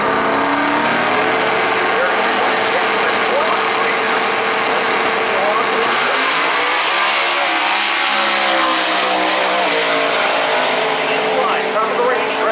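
A race car powers down the drag strip at Maryland International Raceway, smoking more than usual, its engine a loud sustained roar that swells and shifts pitch over several seconds, with commentators talking over it.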